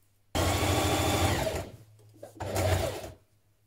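A sewing machine stitches a pullover dress made from the Vogue 1777 pattern, running in two short, close bursts of rapid whirring with a brief pause between them.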